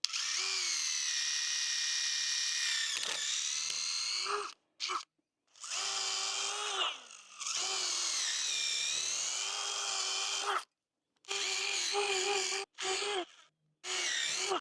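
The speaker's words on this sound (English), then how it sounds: "I think this will go a little better if I pre-drill the holes." An electric drill bores pilot holes in wood for nails, whining in several bursts with short pauses between, the motor pitch dipping as the bit bites in.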